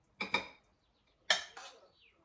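Two quick bursts of ceramic clinking as deep plates are picked up and set down, close and fairly quiet, with no one speaking.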